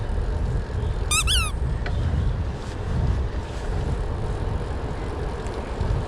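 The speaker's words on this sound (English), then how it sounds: "Thought a squeaky duck would be better." A squeaky rubber duck horn fitted to a 2011 Kinesis Crosslight EVO 4 bicycle gives one short, bright, wobbling squeak, loud and close, over constant wind rumble during an outdoor ride.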